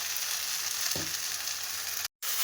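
Fried jackfruit and potato added to a spice paste frying in a pan, with a continuous loud sizzle, one brief low thump as the pieces go in, and a short cut-out near the end.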